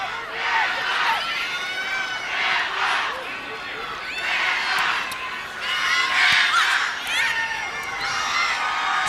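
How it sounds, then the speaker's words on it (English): A large stadium crowd at a sold-out women's college soccer semifinal cheers and shouts in steady waves. The roar swells and eases without a break, with a commentator's voice faintly under it. "Still a great crowd here."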